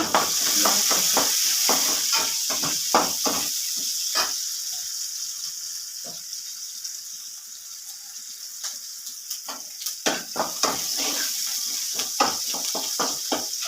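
Curry leaves, onion and green chili sizzle in hot oil for upma, a steady close hiss broken by repeated stirring scrapes, with sparse background talk.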